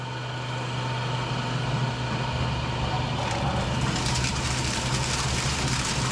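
Motor starting and running a stone grain grinder in a farm granary, a steady droning hum near and constant, with a rougher grinding wash building after a few seconds.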